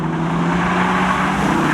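Cars, including a 2009 Chevy Cobalt, drag race at a Labor Day spectator drags event, with a loud, continuous engine roar close by throughout.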